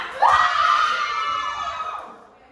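Schoolchildren shout together in a classroom, a loud sustained group yell that rises sharply, holds, and tapers off over about two seconds.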